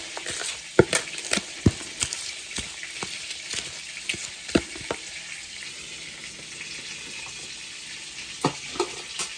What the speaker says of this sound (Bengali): আমার চুলায় কিন্তু এখনো মাংসটা ভাজা হইতেছে।